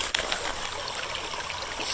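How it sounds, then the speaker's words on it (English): Water flows through a shallow woodland stream, a continuous bright trickle with light splashing, steady and fairly close, with no voices over it. "It looks like Lion's off to frolic and splash in the stream."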